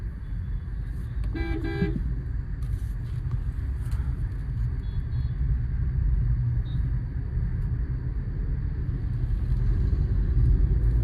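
Car driving through city traffic at night, a steady low engine and road rumble throughout with a brief horn toot near the start.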